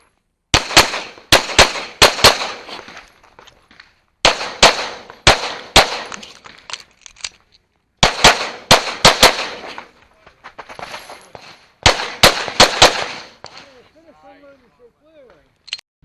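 Pistol gunfire on a stage at the IDPA National Championship, including one-handed shooting: sharp, loud shots in quick clusters of three to five, separated by short pauses across the stage.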